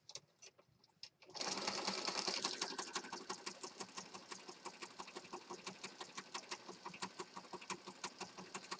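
A sewing machine starts after a second of quiet and runs steadily, its rapid needle clatter close and even for several seconds while stitching a junk journal page with thread.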